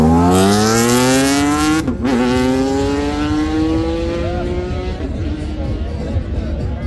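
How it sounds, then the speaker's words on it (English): A six-cylinder engine at a motorcycle drag race revs hard and climbs through gears, loud and close, with brief shifts and a crowd-like wash behind it. "that's a 6-cylinder. That sounds very nice."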